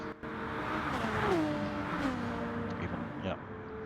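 Gran Turismo Gr.3 race cars, including a Subaru, lapping Circuit de Spa-Francorchamps in a sim race, engines whining and shifting pitch as they pass, with a commentator talking over the steady car noise throughout.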